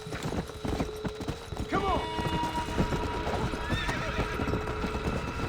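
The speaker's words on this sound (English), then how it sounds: "there's the fire horse right there" The fire horse in Red Dead Redemption Undead Nightmare clip-clops steadily and lets out a loud whinny, with a second fainter neigh later, under a man's brief spoken words.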